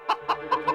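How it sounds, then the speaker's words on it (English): A cartoon chicken gives four evenly spaced, bright clucks, clear and close with no other sound around them. "Just leave that to the chicken."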